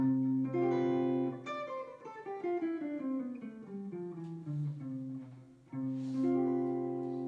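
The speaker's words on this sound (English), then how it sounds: "That's a major 7 sus4 chord." A sustained, shimmering instrumental chord with notes sliding downward before a rich major 7 sus4 chord returns, played alone and fairly quiet.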